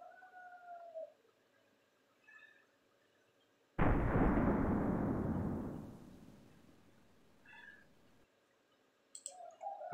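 A single loud gunshot from an M16 firing animation in World of Guns rings out and fades over several seconds, with faint electronic chirps before and after.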